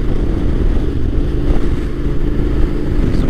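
A Yamaha T7 motorcycle engine drones steadily while riding out on a sportsbike rideout, a loud, continuous low rumble with wind buffeting and no talk.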